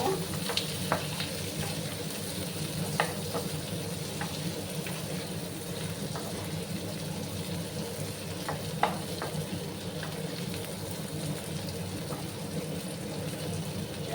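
Chopped onion and tomato fry in a pan, cooking down for an egg dish with mustard and poppy seed paste. A steady close sizzle is punctuated by occasional light clinks of a spatula, with no talking.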